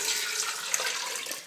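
Steady rush of water pouring into a pot, a continuous bright splashing hiss with no voices.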